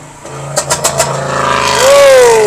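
Dodge Challenger muscle car revving in a few sharp bursts, then accelerating hard with a rising engine note and a brief high squeal, loud and close.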